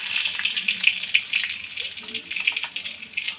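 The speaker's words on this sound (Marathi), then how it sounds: "लसूण मस्त गोल्डन कलर येईपर्यंत परतून घ्यायचा" Garlic sizzling and frying in a hot pan for a Maharashtrian mung bean amti, a steady close crackle with light stirring throughout.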